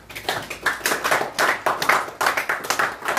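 A church congregation claps together in acclaim of Jesus, a loud, steady, rhythmic round of many hands beating in unison throughout.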